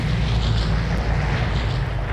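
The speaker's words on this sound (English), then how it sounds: "And now the plane flies overhead." A propeller plane passes overhead in the survival shooter game Vigor, its engine giving a loud, continuous low rumble that stays steady, with no voices.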